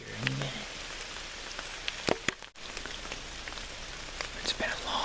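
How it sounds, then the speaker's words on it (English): Steady rain falling in the Virginia mountains during a whitetail hunt, a dense even hiss of drops on surfaces with scattered louder nearby drips, close and continuous, with a brief low voice near the start. "Hopefully this rain will taper off here any minute."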